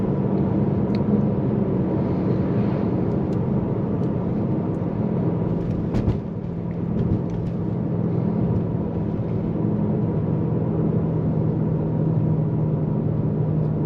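A BMW M5 Competition cruising on a road at night, its engine and road noise forming a steady, loud interior drone with low rumble throughout and no talk.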